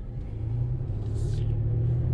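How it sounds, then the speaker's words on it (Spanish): A garbage truck gives a steady, deep rumble close by for about two seconds, its engine drone low and continuous with a brief hiss partway through. "ahí anda el camión de la basura."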